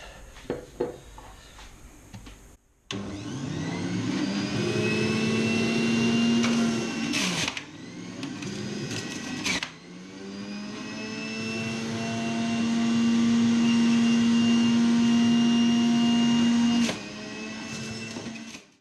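Electric juicer grinding fresh ginger root, a loud, steady motor whine with rising pitch as pieces feed in, briefly dropping and restarting, close and alone without talk.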